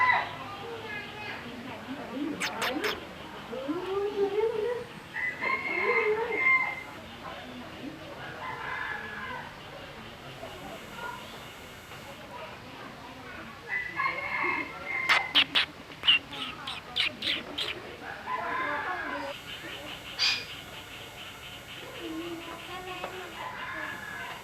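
Chickens and a rooster at a zoo crow and call in short bursts over steady background noise, mostly in the middle distance, while people talk nearby.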